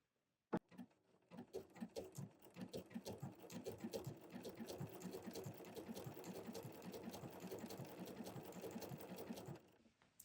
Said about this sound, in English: And I'm simply going to stitch this.